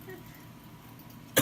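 A single short cough bursts out near the end, loud and close, after a stretch of quiet room hum.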